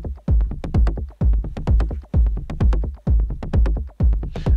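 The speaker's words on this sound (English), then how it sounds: "I've got something already cooking on the DFAM. With the filter closed, it sounds like this." A DFAM analog synthesizer runs a bass line with its filter closed, giving a steady, loud stream of short, thumping, muffled notes in a fast, even techno rhythm.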